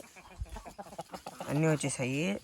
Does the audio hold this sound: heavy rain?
no